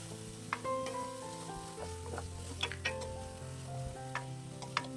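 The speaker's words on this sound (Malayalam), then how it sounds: "അരച്ചത് കാരണം നന്നായിട്ടൊന്ന് ഇളക്കി കൊടുക്കുക." Ground masala and tomato get stirred in a pan, faint sizzling under a spoon scraping and tapping against the metal in irregular light clicks, no voices present.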